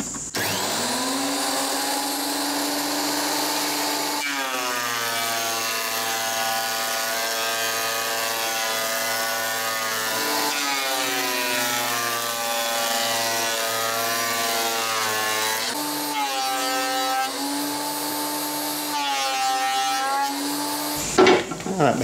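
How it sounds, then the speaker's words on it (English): A compact Makita thicknesser runs steadily while planing timber boards to finished size, its loud continuous motor whine and cutter roar filling the workshop, shifting in pitch as each board feeds through, with no talk. "That Makita thicknesser does a pretty good job actually"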